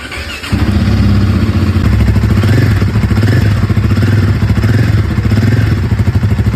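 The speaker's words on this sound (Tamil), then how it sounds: "அண்ட் இந்த வண்டியோட எக்ஸாஸ்ட் நோட்டும் கேட்டுருங்க." A Royal Enfield Guerrilla 450 motorcycle idles and revs close up, its exhaust note a loud, pulsing low thrum that swells and dips with the throttle after starting in.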